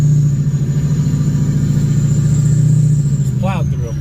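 An off-road vehicle plows through snow drifts on a mountain trail in a blizzard, its engine a loud, steady rumble that holds throughout and dips slightly near the end, while people talk over it.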